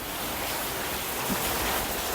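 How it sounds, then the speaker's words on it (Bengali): A dense, even hiss of heavy rain pours down continuously, close and steady, with no other sounds standing out. "বৃষ্টি হচ্ছে অঝরে বৃষ্টি হচ্ছে"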